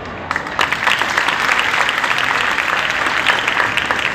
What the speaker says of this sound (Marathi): जोरदार टाळ्या वाजल्यात